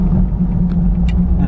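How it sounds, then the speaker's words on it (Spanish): Steady low rumble of street traffic near a bus station, cars passing close by in a continuous drone with a few brief higher clicks and squeaks on top. "el tráfico está como normal"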